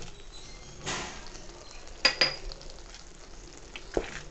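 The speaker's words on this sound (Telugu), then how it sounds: "ఇప్పుడు దీంట్లో జీడిపప్పు వేసుకుందాం." Cashew nuts tossed into thickening Karachi halwa in a pan, with a few sharp metallic clinks of a spoon against the pan and soft stirring scrapes in between, close and moderately quiet, no talking.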